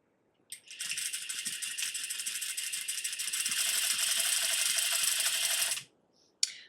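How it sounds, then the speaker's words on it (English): A sewing machine runs steadily while edge stitching a garment hem, its fast needle rattle continuous for about five seconds, slightly louder near the end, then stopping before a brief final burst of back stitching. "Make sure you're edge stitching really nicely and then back stitch at the end."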